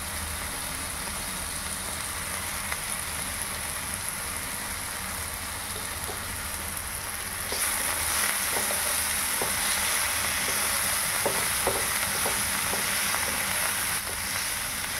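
Diced potatoes frying in hot oil with salt and turmeric, a steady dense sizzle throughout that grows louder and brighter halfway through, with occasional soft stirring clicks.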